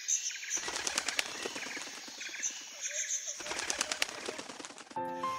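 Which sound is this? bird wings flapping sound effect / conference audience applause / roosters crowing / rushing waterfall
bird wings flapping sound effect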